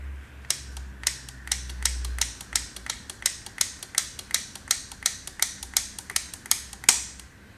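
FICHET combination safe dial turned slowly, producing a long series of crisp, evenly spaced mechanical clicks up close, with a slightly louder clack near the end and a low rumble under the first seconds.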